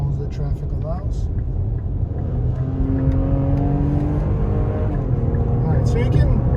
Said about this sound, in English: you can hear how it accelerates. The engine has this nice note.